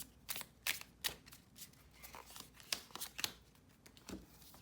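A deck of tarot cards is riffled and shuffled close up in a quiet room, a series of crisp papery flicks and snaps in uneven bursts with no talking.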